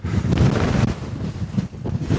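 Steady gusty wind buffets the microphone on a fell beside a tarn, a loud continuous low roar swelling and easing in waves with no voices.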